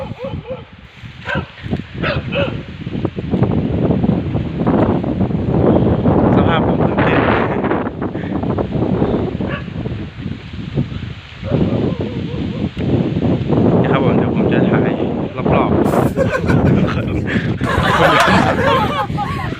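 Strong cold wind gusts buffet the microphone on a small hilltop, a loud, continuous roar with rustling, while someone talks throughout.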